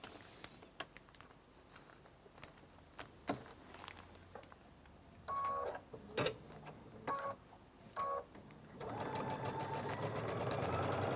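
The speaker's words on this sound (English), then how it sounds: "and then we'll show you how to close up that partial seam" Sewing machine stitching to close a partial seam on a scrap quilt block: scattered ticks first, then short whirring bursts, building to a steady run of rapid stitching, close and fairly quiet.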